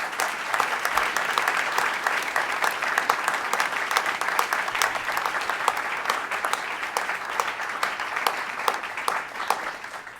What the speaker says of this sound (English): Let's give this team a round of applause.